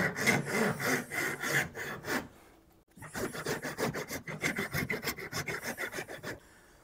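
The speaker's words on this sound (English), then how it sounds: "And then grab some kind of a file," A hand file rasps back and forth across a piece of wood clamped in a vise while a Danish dough whisk is being made, steady rhythmic strokes in two bursts separated by a short pause, close and clear with no talking.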